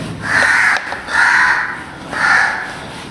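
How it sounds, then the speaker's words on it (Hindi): A crow caws three times outdoors, each harsh call loud and drawn out with short gaps between, and no other sounds stand out. "बाहर कौवा चिल्ला रहा है"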